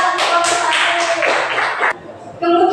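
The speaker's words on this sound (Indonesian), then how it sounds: "Tepuk tangan untuk kelompok 1." Students in a first-grade Indonesian-language classroom clap their hands for a group, a loud burst of dense clapping lasting about two seconds, then a brief pause before the clapping resumes.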